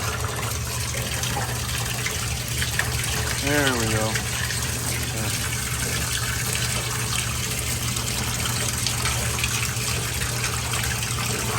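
Hot water gushing steadily from a tap during a refrigerator service call, a constant rushing flow with someone talking briefly over it.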